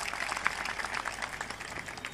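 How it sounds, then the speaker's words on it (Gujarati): Audience applause at a Gujarati talk, a steady dense patter of many hands clapping at moderate loudness with one sharper clap standing out. "એટલે એને તાળીઓથી વધાવો એકવાર."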